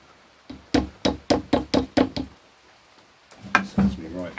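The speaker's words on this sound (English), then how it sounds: "Rubber mallet, obviously." A rubber mallet knocks on the engine case of a Honda CB250 Superdream during a case split, landing about eight steady, close, dull thuds, then after a pause a few more blows under a man's speech.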